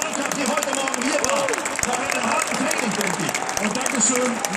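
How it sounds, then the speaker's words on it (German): An audience applauds the FC Schalke 04 team at a club gathering, a steady patter of clapping that runs under someone speaking German over a PA. "Und jetzt erstmal Applaus für die Mannschaft, die heute Morgen hier war."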